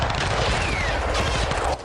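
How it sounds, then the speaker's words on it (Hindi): A Pakistani machine gun fires in a continuous, dense burst of loud rapid rounds, dropping off sharply just before the end. "पाकिस्तानी मशीन गन गोलियां बरसाने लगी।"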